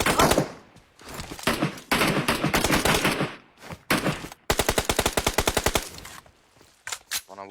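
Rapid bursts of automatic gunfire in the mobile battle royale game PUBG Mobile, loud and close, with sustained rattling volleys and a tight rhythmic string of shots near the middle, broken by brief pauses.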